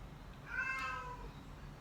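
A nervous female kitten gives a single drawn-out meow, faint against a steady low room hum, with no talking over it.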